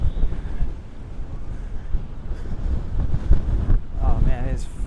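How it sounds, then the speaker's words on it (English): Breezy wind buffets the microphone outdoors beside the Venice canals, a steady loud rumble throughout with a few brief whistling tones near the end. "Oh man, it's nice and breezy over here."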